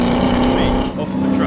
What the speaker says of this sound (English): we can still hear that from the opposite end of the track when the car is facing the opposite way